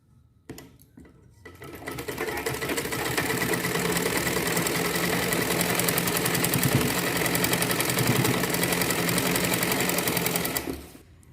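A sewing machine stitches a blouse collar: after a brief start it runs in one continuous fast whirring rattle for about nine seconds, then stops, loud and close.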